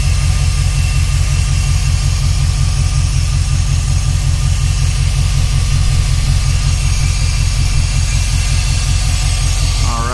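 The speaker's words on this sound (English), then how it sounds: "As you can hear, it's chugging pretty good." A Dodge Dakota engine fitted with a 70mm throttle body runs with a loud, steady, deep rumble that holds without a break, close to the listener.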